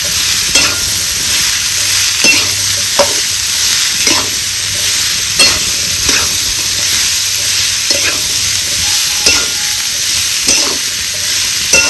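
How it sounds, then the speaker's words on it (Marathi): Chopped country cucumber sautéing in hot oil in a pan for a village-style bhaji, a steady loud sizzle broken by regular scraping stirs about every second, with no voices. "आता ही धुवून चिरून घेतलेली काकडी ह्याच्यात टाकायची आपल्याला. चांगली ह्याला परतून घ्यायचं."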